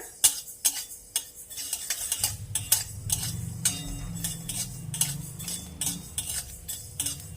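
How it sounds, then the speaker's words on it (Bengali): Mustard seeds crackle and pop in a hot pan for a Bengali fish curry, with quick irregular snaps over a low sizzle and a spoon scraping and clinking as they are stirred. "এই যে সর্ষেটা ফুটতে শুরু করেছে, একটা দুটো করে ফুটফাট করে ফুটছে"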